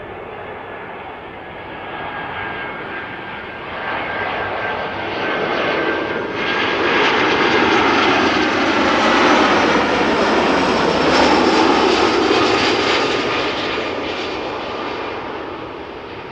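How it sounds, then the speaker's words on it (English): A 13-year-old EasyJet Airbus A320 classic arriving from Berlin roars in to land at Amsterdam Schiphol, its jet engine noise swelling steadily and staying loud and near for the full stretch, with no talking. "This A320 is arriving from Berlin."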